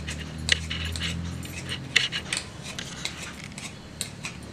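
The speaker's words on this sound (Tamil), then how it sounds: "இந்த மாதிரி நல்ல தோல் எல்லாம் உரிச்சிட்டு எடுத்து வைக்கணும். நல்லா சீவிட்டு எடுத்து வைக்கணும்." Potatoes being peeled for French fries with a peeler, giving repeated short scraping strokes at close range over a steady background hiss.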